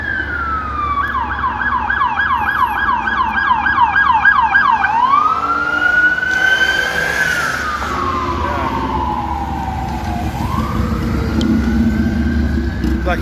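Police sirens wail and yelp along Sunset Boulevard on a busy evening, a fast warbling siren giving way to long rising and falling wails over steady traffic rumble, loud and fairly close throughout.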